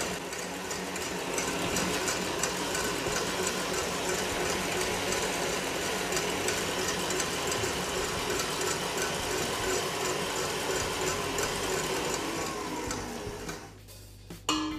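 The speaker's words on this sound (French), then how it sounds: "Lorsque les blancs sont aux 3/4 montés, j'ajoute le restant de sucre semoule progressivement pour les meringuer." An electric mixer whips egg whites as sugar is added for meringue, a steady mechanical whirring drone that runs unbroken before cutting off near the end.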